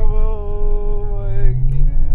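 A 2019 Peugeot 508 sedan in sport mode launches hard, its engine giving a loud, steady droning tone close by that shifts and dips partway through, with voices in the car over it.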